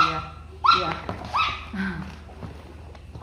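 A pet sugar glider gives its night-time barking call, two or three short, sharp yaps close by, with a person talking around them.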